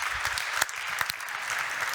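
Steady applause from a conference audience, a dense wash of many hands clapping at moderate distance throughout.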